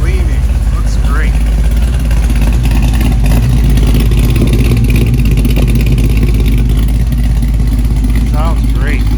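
A 1969 Chevelle SS 396 with a 502 crate motor and 400 turbo automatic idles loud and deep, with a few rev blips rising over the heavy steady rumble.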